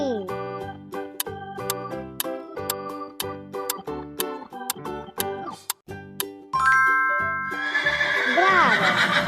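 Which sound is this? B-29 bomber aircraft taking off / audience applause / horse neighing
horse neighing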